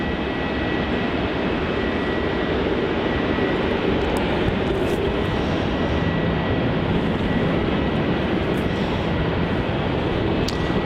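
An airliner takes off from runway 27 at Melbourne Airport, a loud, steady broadband engine roar that fills the whole stretch without letup, with no voices over it.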